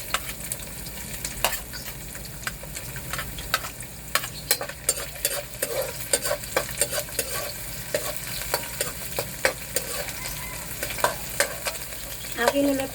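Fish and onion sauté in a pan, a steady sizzle broken by frequent sharp spatula scrapes and clicks in an irregular rhythm, close and without speech.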